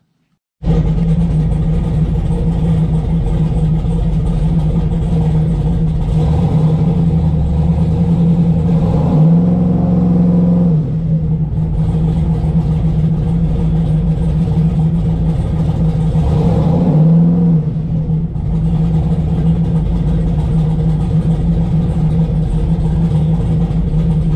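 A car makes a test pass after a Mechman alternator upgrade, its engine droning loudly and steadily with two surges of acceleration, close and without any talk.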